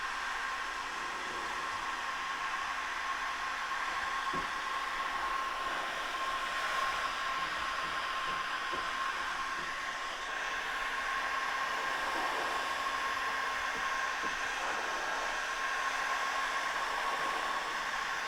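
A heat gun blows hot air onto a line to soften it for bending aboard a boat, a steady whooshing blower hum with a faint tonal whine, constant throughout with a few small knocks beneath it.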